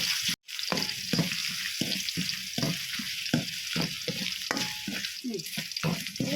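Ginger sizzles and crackles in a hot pan while being cooked for a liver fry, with repeated rhythmic scraping and stirring strokes cutting through the steady frying hiss.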